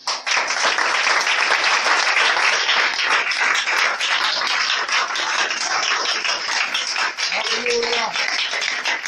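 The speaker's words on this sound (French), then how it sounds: "Est-ce que tu peux acclamer le Seigneur?" A church congregation claps and cheers continuously in acclaim of the Lord, loud and dense applause filling the room throughout, with a brief voice near the end.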